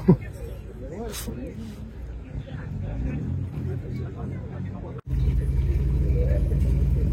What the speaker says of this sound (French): Un spécial pour Bertrand, la voiture du patron qui arrive